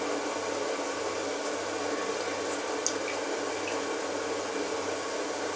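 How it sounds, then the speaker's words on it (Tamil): Water used to rinse a mixer grinder jar is poured in a steady stream with a continuous splashing rush, fairly close, running for several seconds without pause and with no talking. "இந்த மிக்ஸி கழுவுன தண்ணி நான் ஊற்றிடுறேன்"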